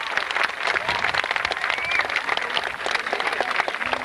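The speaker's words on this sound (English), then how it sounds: "Give them a nice round of applause." Arena audience applause at a Hawaiian luau show with an imu earth oven, a lively round of many hands clapping at fairly close range, steady throughout with faint crowd murmur underneath.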